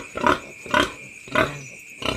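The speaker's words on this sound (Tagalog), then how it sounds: "so ang daming mga biik" A bunch of piglets grunt close by in short, repeated bursts of about four evenly spaced snorts, loud and clear over a quiet farm background, with no talking.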